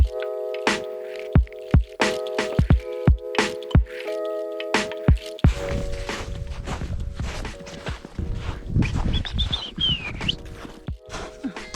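Wet shoes squish and squelch with each step on a hike up Mt Kosciusko, a close, irregular series of sharp wet footfalls, then a denser stretch of sloshing, splashing steps.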